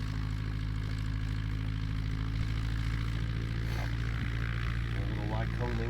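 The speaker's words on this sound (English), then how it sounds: "A little Lycoming engine." A small Lycoming aircraft engine runs at a steady idle with a constant low drone, close by and loud throughout, with faint voices underneath.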